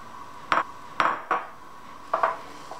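A utensil clinks and knocks against a bowl in five separate short strikes while Rice Krispies are stirred into a marshmallow mixture; the hits are fairly close and fall at uneven intervals with quiet between them.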